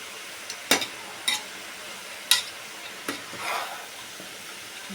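A spoon stirs and mixes a bean stir-fry (palya) in a pan, giving a few distinct scraping clinks at irregular intervals over a soft, steady sizzle, close and clear with no voices.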